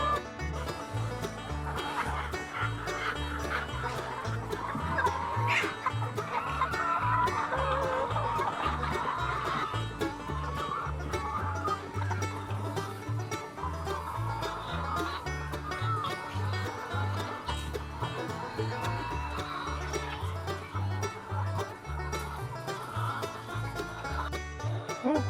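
Farm chickens clucking steadily around a coop during feeding and a check for eggs, a dense, continuous flock chatter close by with occasional brief laughter mixed in.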